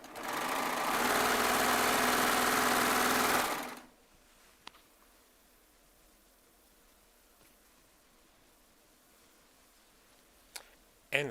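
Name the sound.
Baby Lock Triumph serger sewing machine running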